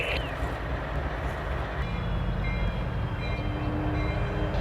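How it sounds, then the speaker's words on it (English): A big locomotive consist turning on a railroad wye makes a loud, steady rumble of diesel engines and rolling wheels for nearly five seconds, with a brief whistle-like squeal at the start and some high flange squeal later. "turning this big locomotive consist"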